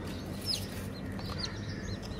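Hens cluck quietly at a small home zoo, a few soft scattered clucks over steady outdoor background noise.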